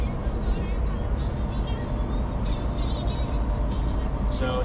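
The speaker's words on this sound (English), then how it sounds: "Car coming up." A car coming up from behind and passing on the highway, heard from inside a moving vehicle as a steady road roar with a faint swell of the passing car and no talk over it.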